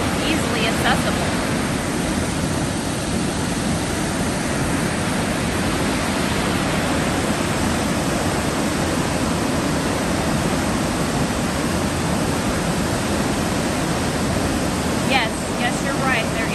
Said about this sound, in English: this is Blackwater Falls, West Virginia. The nice thing about the waterfalls here is they're just so easily accessible.